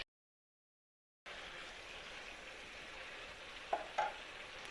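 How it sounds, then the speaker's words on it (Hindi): Chicken karahi with softened tomatoes sautés in a pan, a low, even sizzle beginning after a brief silence, with a couple of light spoon scrapes near the end. "हम चिकन की अच्छे से भुनाई कर रहे हैं"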